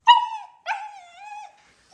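An agitated dog gives two loud, close whimpering yelps that trail into a drawn-out whine, with a brief pause between them and silence afterward.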